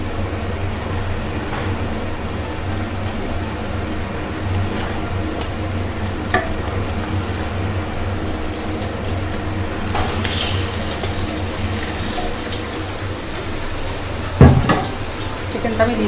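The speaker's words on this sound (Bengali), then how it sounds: "চিকেনটা আমি দিয়ে দিলাম, দিয়ে চিকেনটাকে এবার আমি নাড়াচাড়া করবো পেঁয়াজ আর জিরের মধ্যে।" Chicken pieces sizzle in a pan with onion and cumin for chicken kosha, with a steady frying hiss broken by scraping and knocking as the pieces are stirred and turned, and a louder clank near the end.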